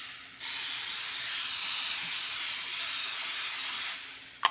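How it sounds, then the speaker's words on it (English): A can of non-stick cooking spray hisses steadily onto a Belgian waffle iron, one continuous spray of about three and a half seconds, close and fairly loud, then stopping with a small click. "So you will start by spraying your waffle maker with just whatever non-stick cooking spray you have."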